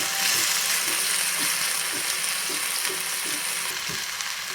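Potatoes sautéed in ghee, a loud steady frying hiss close up with regular spatula scrapes and stirs ticking through it.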